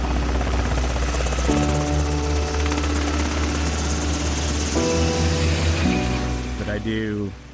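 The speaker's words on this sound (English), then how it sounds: "the Idaho Army National Guard and their helicopter with hoist capabilities" An Idaho Army National Guard rescue helicopter with a hoist beats loudly and steadily, with heavy rotor thump and engine whine throughout and a voice talking over it.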